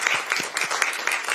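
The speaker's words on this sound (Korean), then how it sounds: "그동안 고생하셨으니까 박수 한번" An audience at a Korean political party meeting claps briefly for a departing leadership member, a short patter of applause from a modest crowd with a voice faintly over it.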